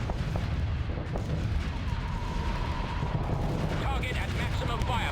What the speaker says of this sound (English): Say hello to our ion cannons.